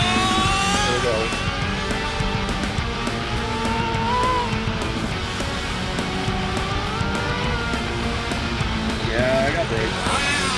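An HPI Nitro RS4 nitro RC car engine whines at high revs, pitch rising and falling as it speeds up and slows, close and loud, with someone talking over it.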